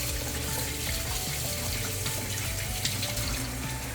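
Tap water runs steadily into a sink while bitter gourd (ampalaya) is washed, a continuous close splashing flow with no talk.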